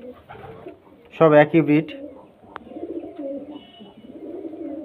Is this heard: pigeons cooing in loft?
yes